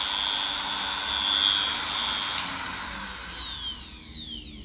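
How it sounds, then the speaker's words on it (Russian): A small Chinese rotary tool fitted with a saw attachment whines steadily as it cuts through material on its first speed setting, its pitch drifting downward near the end as the cut finishes. "пила пилит просто превосходно"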